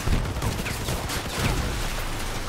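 Gunfire from vehicle combat in the Crossout game, rapid overlapping shots and impacts forming a loud continuous burst that runs for the whole stretch.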